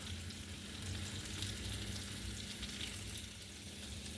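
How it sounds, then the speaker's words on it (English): Lamb chops sizzling in a pan of melting butter, a soft continuous frying crackle and hiss throughout, fairly quiet and steady with no voices. "we're going to flip over our lamb chops. And we're going to let this side cook some more. A lot of our butter is starting to melt."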